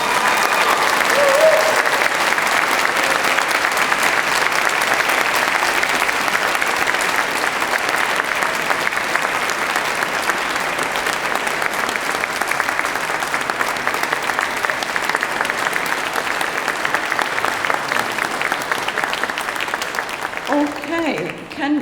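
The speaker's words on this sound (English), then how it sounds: "give them a huge round of applause, please" Sustained loud applause from a university graduation ceremony audience, steady dense clapping filling the hall for over twenty seconds, tapering slightly near the end.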